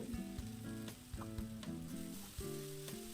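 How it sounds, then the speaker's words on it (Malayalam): Oil left from frying chicken is poured into a spiced masala sizzling in a pan, a quiet hiss with overlapping tonal scraping and clatter, as if a spoon works the pan, continuing alone without talk. "ഇതിലേക്ക് ഞാൻ ചിക്കൻ ഫ്രൈ ചെയ്ത് വെച്ചിട്ടുള്ള ഓയിൽ കുറച്ച് ഒഴിച്ചു കൊടുക്കുന്നുണ്ട്"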